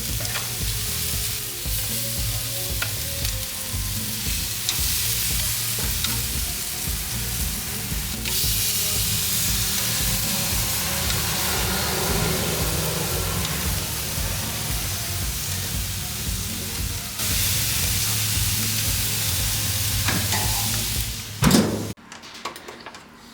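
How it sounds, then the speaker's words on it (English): Jerk steak sizzles and fries in a pan with a loud, steady hiss and crackle that runs the whole time, and a brief clatter comes near the end as the steak is turned. "It's time to open and flip over the steak."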